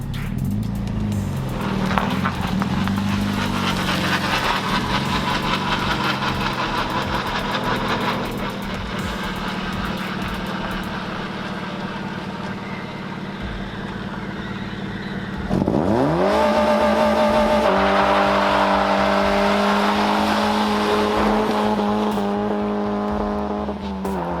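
A front-wheel-drive car launched hard without the handbrake, its engine revving loudly with wheelspin and tire squeal, holding a sustained roar that drops briefly and then surges even louder near the end.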